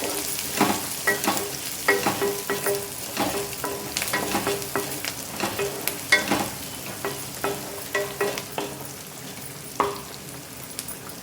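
Onions sizzling in a pan for a dried prawn and tomato curry, stirred with a ladle: a continuous fry hiss broken by frequent scraping and knocking strokes at an irregular pace, close and without speech.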